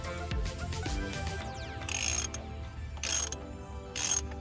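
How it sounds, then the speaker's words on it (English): Ratchet fitted with a 16 mm deep socket loosening a car spark plug, with quiet mechanical clicking and three short bursts of brighter ratcheting near the end, close and fairly faint. "this is the 16 millimeter deep socket in order to get the spark plug out"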